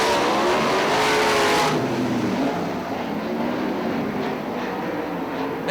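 410 sprint cars racing in a heat race at Fremont Speedway, a loud continuous engine roar that swells briefly and then drops to a steady, slightly more distant drone, with no voices.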